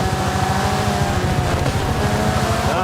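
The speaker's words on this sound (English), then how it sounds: "Ah, these cars sound like weed whackers." Race car engines in a racing video game, a constant buzzing, high-revving drone that sustains loudly and evenly throughout with a thin, whiny character and no break.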